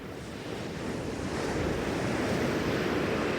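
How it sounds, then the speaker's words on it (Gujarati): Sea waves wash steadily onto the beach at Porbandar Chowpatty in Gujarat, a loud, continuous roar of surf mixed with gusting wind noise across the whole clip. "આ દરિયાની મીઠી મીઠી લહેરું ને આ રીતના પંખીડાને"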